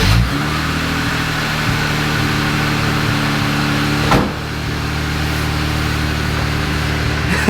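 New Jeep engine with a high-tuck exhaust, a loud close steady idle drone with a brief rev blip partway through, then settling back to a throaty hum.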